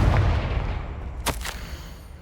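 A Confringo fire spell explodes in the Hogwarts Legacy game, a rumbling low blast fading out, then a sharp crackling burst and a second quick hit near the end.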